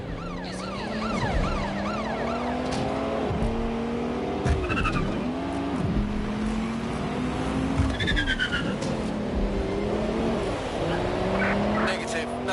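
A car in Watch Dogs Legion drives and repeatedly skids, tires squealing in sweeping curved whines over a steady engine drone, with a siren wailing nearby and loud clattering impacts.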